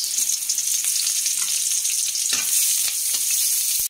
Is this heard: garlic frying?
yes